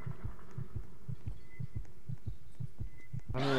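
A pounding heartbeat in the Roblox horror game Before the Dawn thumps in a steady, evenly spaced rhythm of about a dozen heavy, low beats, close and prominent. A brief burst of another sound cuts in at the very end.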